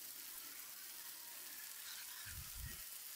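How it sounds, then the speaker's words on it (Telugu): Mutton frying in a pan with ginger garlic paste, a steady bright hiss of sizzling oil throughout, with a couple of soft low thumps near the end as the meat is stirred. "అల్లం వెల్లుల్లి పేస్ట్ వేసి పచ్చివాసన పోయే వరకు మరో 2 నిమిషాల పాటు వేయించాలి"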